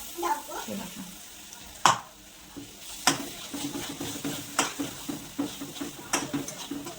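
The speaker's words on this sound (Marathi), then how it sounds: "पहिले आपले मसाले जाणार आहेत जे पूर्ण आपण असे बारीक गॅसवरती छान परतून घ्यायचे" Spices sauté in a pan over a low gas flame: a soft, quiet sizzle broken by repeated light scrapes and taps of a stirring utensil against the pan.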